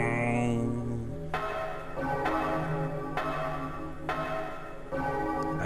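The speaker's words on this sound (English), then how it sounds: "It's a weird bell sound, I gotta say." Resident Evil 3 game scene with a strange bell that strikes about five times at a slow, even pace, each strike ringing out with a metallic tone over a machinery hum.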